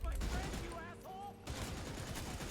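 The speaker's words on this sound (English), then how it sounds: "Okay, who's shooting at me?" Rapid bursts of gunfire in the video game Redfall, loud and close, firing in a dense volley that drops off briefly mid-way and then resumes, with voices heard over the shooting.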